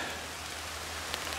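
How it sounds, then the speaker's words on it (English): Rain beginning to fall over an old abandoned cemetery, a soft, steady hiss of drops pattering on surfaces, even and quiet throughout with no voices. "it's starting to rain"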